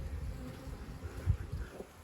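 Honey bees on a hive frame of emerging brood during spring hive work, a low continuous buzzing hum close by with small swells and one louder burst in the middle, no talking.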